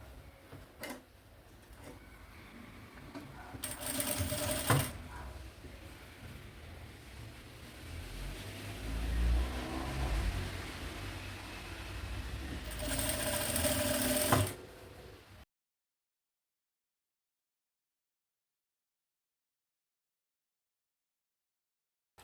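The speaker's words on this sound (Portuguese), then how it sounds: "vai fazer uma costurinha aqui e depois uma mais pra baixo, que vai fazer o canal do elástico" A sewing machine stitches an elastic channel in fabric for a maternity bag, with two steady bursts of stitching separated by quieter handling of the fabric, then silence.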